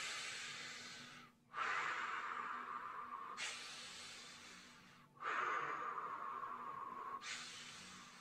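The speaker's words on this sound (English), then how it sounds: "this is breathing while maintaining pressure" Deep diaphragmatic breathing while holding core pressure, slow airy inhales and half exhales alternating in long even cycles, close and quiet.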